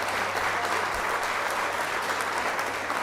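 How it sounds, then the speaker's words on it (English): A crowd gives a round of applause during a livestreamed music show, steady, dense clapping that holds evenly for the full stretch with no talk over it. "Round of applause for that."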